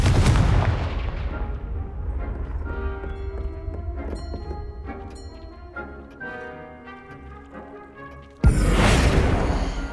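Confringo spell cast in Hogwarts Legacy, a booming blast at the start that decays into a ringing, tonal magical tail, followed by a second sharp whooshing burst near the end.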